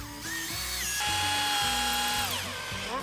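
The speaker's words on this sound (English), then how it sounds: "and drill another one about there" A power drill bores into wood while a rustic bird table is being built, its motor whining loudly and steadily with pitch shifts as it speeds up and bears down, running without a pause for about three seconds.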